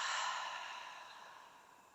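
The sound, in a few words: exhaling through parted lips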